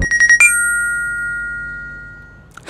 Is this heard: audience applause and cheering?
no